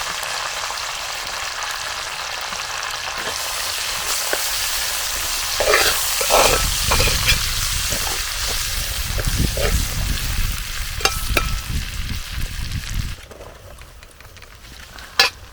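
Curry leaves, ginger and garlic fry in hot oil for a homestyle chicken curry, giving a steady, close crackling sizzle that swells louder midway and then drops off sharply near the end, with no voices.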